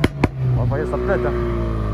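Two sharp, loud cracks from the exhaust of a 350 hp Ford Focus RS come in quick succession near the start, followed by someone talking over a steady engine idle.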